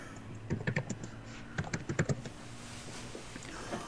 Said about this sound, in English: your keyboard sounds like my old keyboard